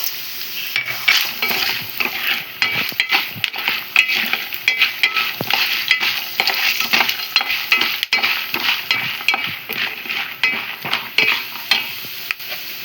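Chana dal and urad dal frying in hot oil for a tempering, a loud, dense sizzle with repeated stirring scrapes and clinks of the spoon against the pan, close up and unbroken by speech.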